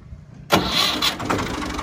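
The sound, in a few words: tractor engine starting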